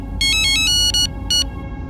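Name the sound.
mobile phone ringtone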